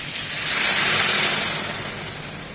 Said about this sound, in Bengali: এখন এখানে দিয়ে দিব ফুটানো পানি।